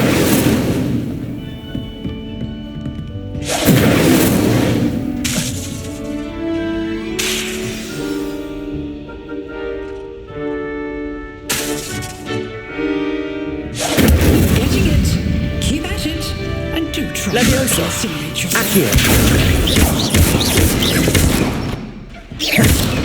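Fiery Incendio spell blasts in Hogwarts Legacy, heavy booming bursts in several loud clusters with quieter gaps between, dense and close, with no talking.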